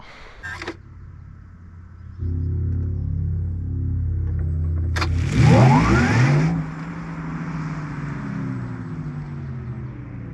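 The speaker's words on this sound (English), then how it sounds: "And it's got a futuristic electric sound." A Porsche Taycan 4S electric sports car pulls away outside, a steady electric motor hum rising into a swooping, whirring whine as it accelerates past, then settling to a lower drone.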